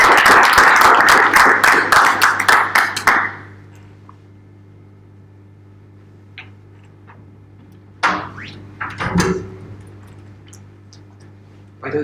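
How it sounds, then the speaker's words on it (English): A seated audience at a talk claps loudly for about three seconds in dense, rapid applause that dies away to quiet room tone, followed by scattered small knocks and rustles. "give a very loud applause to Vladi"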